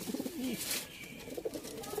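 Sialkoti pigeons of the 35 variety, kept for sale, coo steadily in soft throaty rolling calls that repeat over a constant hiss of background noise.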